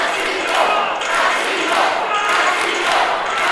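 A wrestling crowd roars and cheers in a loud, continuous wash of voices during a tag-team match, with swells of noise and occasional thuds, close and dense throughout.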